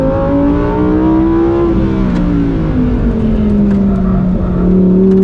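A 2023 Lamborghini Huracan Tecnica, a mid-engine car, being driven hard on a track, its engine loud and close with a steady roar whose pitch sweeps up and down as it slides through a corner.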